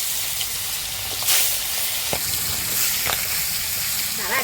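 Kain river fish frying in hot oil in a pan, a loud, continuous close sizzle with a few sharp crackles and spits, occasional stirring, and soft voices underneath.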